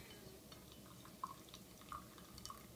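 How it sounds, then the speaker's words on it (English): Tea drips from an infuser into a glass tumbler, a few soft separate drops falling at irregular intervals, very faint against a low background hiss. "I'm just going to let it drip a little bit."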